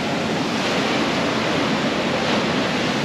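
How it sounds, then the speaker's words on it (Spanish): Heavy ocean surf rolls steadily at a Mazatlán port, a dense, continuous roar of strong waves with wind buffeting the microphone throughout. "por como estaba la oleada aquí bien fuerte, pues no dejaban el acceso al mar"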